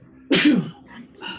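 A single sharp sneeze bursts out during a tabletop Pathfinder game session, followed by a quieter breathy trailing sound, close and isolated.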